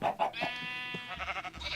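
Sheep bleating in a Minecraft modpack game, a few short nasal bleats followed by one long wavering cry, loud and close with no talk over it.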